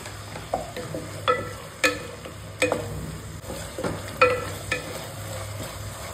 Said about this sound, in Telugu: దాంట్లోకి 2 సన్నగా తరిగిన ఉల్లిపాయలు, పచ్చిమిరపకాయలు, జింజర్ గార్లిక్ పేస్ట్ వేసి ఒక 2 to 3 మినిట్స్ బాగా ఫ్రై చేయండి లో ఫ్లేమ్లో